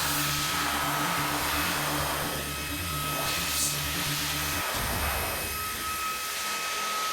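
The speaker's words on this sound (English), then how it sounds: "I'm going to run the machine right now on high and see if it can move these two cans." A Fanttik Slim V8 cordless handheld vacuum runs on high, a loud steady whine with a droning low hum that cuts off near the end, leaving a fading airy hiss.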